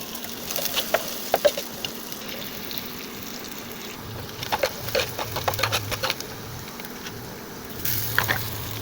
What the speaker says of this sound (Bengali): পেঁয়াজ দিয়ে নিতেছি